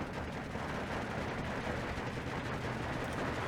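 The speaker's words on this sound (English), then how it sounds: "Oh, he's only firing the Berettas." Steady, dense gunfire and battle noise from Beretta guns in the strategy video game Steel Division 2, a continuous dull rumble of shots at even loudness with no clear separate bursts.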